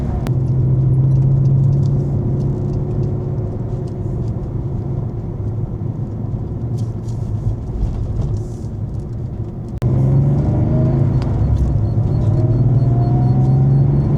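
A high-mileage Porsche 964 with a freshly rebuilt engine drones steadily as it drives, pausing briefly at a gear change before pulling again with a rising tone. There is no talking.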